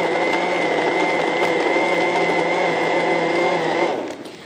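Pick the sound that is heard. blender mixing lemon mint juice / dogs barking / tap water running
blender mixing lemon mint juice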